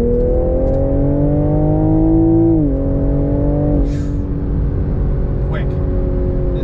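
A 2022 Toyota GR Supra revs up through the gears, its engine tone climbing steadily, dipping at a shift, then pulling on from inside the car, loud and close.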